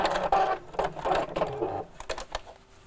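A domestic sewing machine stitches fabric for a gift bag on a short stitch setting, giving quick, uneven bursts of mechanical whirring and clatter, close and moderately quiet, with brief pauses between runs.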